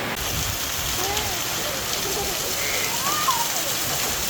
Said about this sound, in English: You see how heavy the rain is.